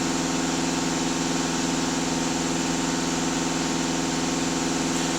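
A Volkswagen Passat DFGA diesel engine idles close by, a continuous rumbling drone with an even rhythmic throb and no voices.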